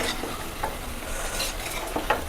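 Chicken curry masala roasts in oil with shallots, a close continuous sizzle with brisk scraping stirs of a spoon against the pan, no one talking.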